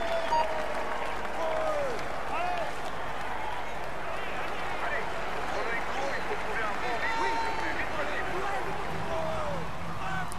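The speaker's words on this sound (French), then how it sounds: "Allez, on l'applaudit bien fort." A roadside crowd at the Tour de France applauds a cyclist steadily, dense clapping mixed with scattered cheers and shouts, continuing at moderate loudness throughout.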